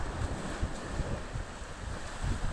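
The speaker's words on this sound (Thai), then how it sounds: "ชายทะเลหัวหินอันสวยงาม" Sea waves and strong wind on Hua Hin beach in Thailand, a steady wash of surf with wind buffeting the microphone, no voices.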